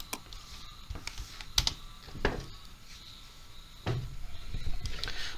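Sparse computer keyboard keystrokes sound close and isolated, a few separate clicks spread out with short gaps, against a quiet room background.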